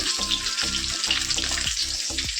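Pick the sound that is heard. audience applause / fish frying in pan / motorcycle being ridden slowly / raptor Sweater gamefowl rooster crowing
fish frying in pan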